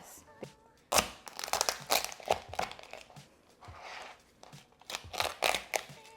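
A knife cutting a lobster tail shell in half, giving a series of crunchy cracks and crinkling snaps in uneven bursts, close and fairly quiet.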